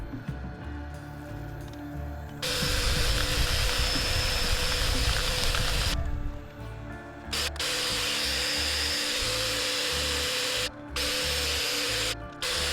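An air compressor blasts air through holes in a turned wooden piece in a woodworking shop, loud hissing bursts starting and stopping several times over a steady motor hum.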